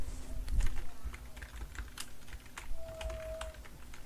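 Keyboard typing and mouse clicks at a computer during Photoshop work, a scatter of light, irregular taps and clicks close by, with faint talk in the background.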